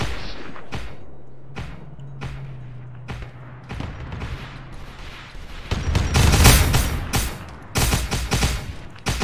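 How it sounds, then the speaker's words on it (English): A heavy hell gun fires in a Warhammer 40k mod of Arma 3, sharp separate blasts spaced out at first, then swelling into a louder, denser roaring burst near the end. "That's the freaking Karsakin hell gun."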